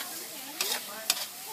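Chicken stir-fried in a pan for Thai coconut curry rice, with a steady background sizzle and two short bursts of scraping as the pieces are tossed, heard up close with no talking.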